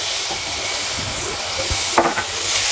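Carrot and tomato frying in a pan, a steady hiss of sizzling with a few clattering stir strokes near the end; close-up, no voices.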